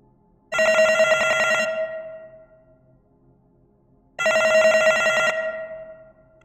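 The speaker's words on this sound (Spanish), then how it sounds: "Ahí vuelve a sonar mi teléfono" A telephone rings twice, each bright electronic ring lasting about a second and fading out, separated by a few seconds of silence.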